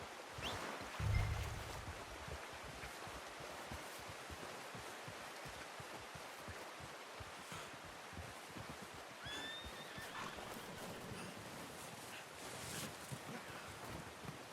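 A horse whinnies once near the start over steady outdoor wind noise in the video game Red Dead Redemption 2, followed by quiet ambient rustling and faint movement.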